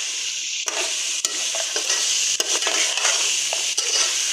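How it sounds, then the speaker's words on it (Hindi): Chicken with ginger garlic paste sizzles steadily in a pot while a spoon stirs it, scraping and knocking against the metal every second or so over the constant hiss of frying. "और हमने फिर इसको अच्छी तरह भूनना है।"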